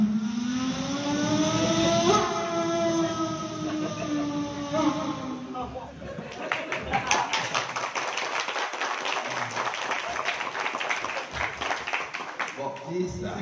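A voice mimics a fast MotoGP motorbike, rising whines like revving gears, then gives way to rapid clapping and crowd noise as the audience responds.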